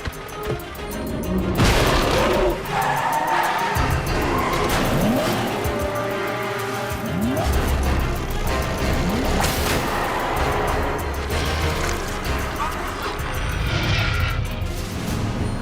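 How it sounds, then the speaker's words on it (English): A truck speeds off in an animated G.I. Joe action series, its tires squealing loudly over a roaring engine, with skids and revving that carry on throughout the action scene. "Start the truck!"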